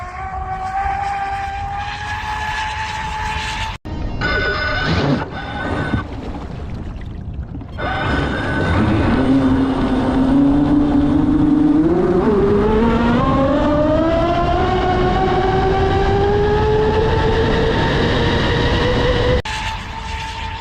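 A fast RC boat's electric motor whines loudly on the water, pitch rising steadily as it speeds up, with abrupt cuts between passes and a strong sustained high tone near the end.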